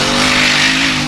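A street-legal class formula off-road race car engine at an Icelandic off-road event in Hella holds a loud, sustained rev, a steady buzzing drone with a slight rise in pitch over about a second.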